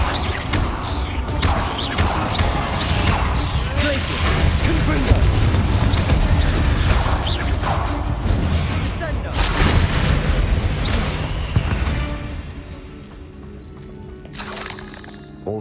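Spell blasts from the Confringo and Glacius spells in the Hogwarts Legacy video game, a run of loud booming bursts and crackling impacts in quick succession, layered over dense game combat noise with a voice speaking throughout.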